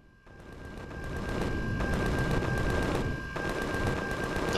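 Automated turrets in the space survival game Empyrion fire sustained bursts at attacking drones, a dense rattling stream of shots with a steady tone running beneath, loud and continuous with a brief dip midway.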